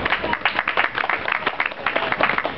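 An audience at a comic expo presentation claps steadily, with dense, continuous applause filling the room throughout.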